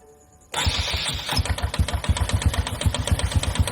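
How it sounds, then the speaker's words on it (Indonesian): A motorcycle with an automatic clutch starts after a short cranking whir, then settles into a steady, close, rhythmic idle with pulsing putts, its oil not yet circulating. "kita nyalakan motornya ya, tidak usah terlalu lama karena ini memang kondisi olinya tidak bersirkulasi ya"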